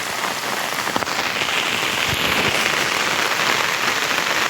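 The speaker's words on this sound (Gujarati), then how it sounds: "વરસાદ ધોમ ચાલુ છે" Heavy monsoon rain pours down beside a river in Gujarat, a dense, continuous hiss, with a few sharper drips and splashes popping out close by.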